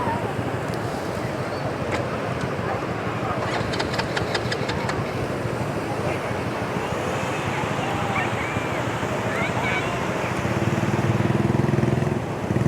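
Ocean waves washing onto the sandy beach at Air Manis, a constant broad surf roar mixed with wind buffeting the microphone, and faint distant voices underneath.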